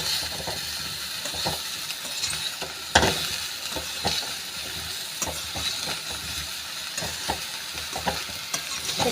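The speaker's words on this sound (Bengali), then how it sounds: "এরপরে আমি আলু দিয়ে দিচ্ছি। এবারে সবগুলোই ভালো করে সুন্দর করে নাড়িয়ে নিচ্ছি।" Eggplant and potato pieces stirred in a frying pan of hot oil: a steady sizzle with repeated scraping, clacking strokes of a spatula, close and fairly loud, one sharper knock near the start.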